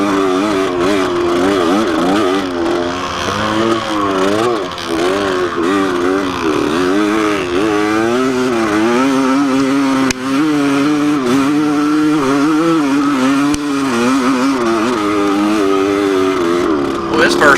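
Vintage motorcycles racing on a dirt track, with several engines droning and revving continuously and pitch rising and falling as the bikes accelerate and pass, loud and steady throughout, with a voice talking over them.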